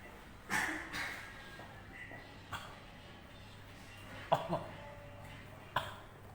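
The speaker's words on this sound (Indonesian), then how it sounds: "Sebentar, saya batuk dulu." Several short coughs break out separately, a pair of sharper ones close together later, with quiet room noise between them.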